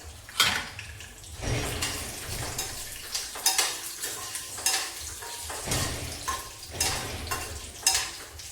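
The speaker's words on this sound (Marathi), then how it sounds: "तर हे काजू मी या पॅनमध्ये तेल टाकले, तर त्याच्यात थोडंसं तळून घेणार आहे." Cashews fry lightly in oil in a pan with a soft, steady sizzle, broken by the scrape and clink of a utensil stirring against the metal at close range.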